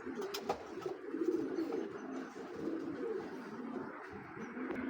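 Racing pigeons, including grizzle and black checker birds at a pigeon club, coo softly with low, rolling throaty calls that repeat at close range, faint, with light rustling and no talk.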